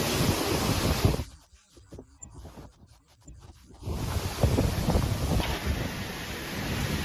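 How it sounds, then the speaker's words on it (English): Strong wind roars and buffets the microphone, dropping briefly to a lull before surging back with heavy rushing noise. "More intense winds and rain causing damage."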